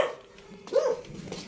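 A house dog lets out a short bark or two at a family home, fairly close, amid quiet outdoor background.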